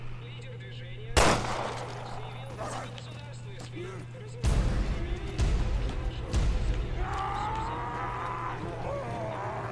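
Gunfire in the video game Resident Evil Revelations 2 on PS4: sharp, loud gunshots and impact bangs, a few spaced bursts, with a player talking over the game sound.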